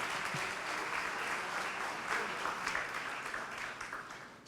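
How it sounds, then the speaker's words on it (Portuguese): A church congregation applauds, a faint, distant, steady wash of many hands clapping that holds evenly for several seconds. "Vamos aplaudir aí a vida"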